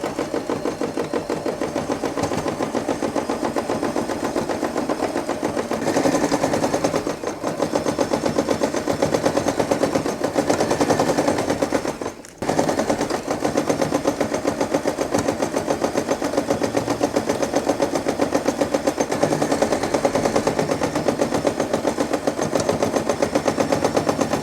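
A sewing machine stitches a straight seam on fabric for a boxy pouch, a fast, steady mechanical chatter close up. It runs almost continuously with one brief pause midway.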